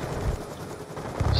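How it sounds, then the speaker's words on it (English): Stealth chopper in Call of Duty: Black Ops 2 multiplayer, a brief loud rumble of rotor and engine noise with bursts that resemble gunfire, and no speech. "Stealth chopper?"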